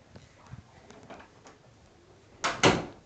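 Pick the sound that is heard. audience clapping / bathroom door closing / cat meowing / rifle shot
bathroom door closing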